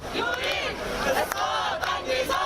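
Crowd of angry protesters gathered outside a court, shouting slogans together in loud, rhythmic chanting that rises and falls.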